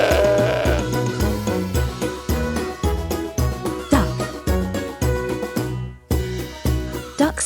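Goat bleating in a farm setting, a series of short rhythmic bleats repeating close and loud, with a faint tinkling bell in the background.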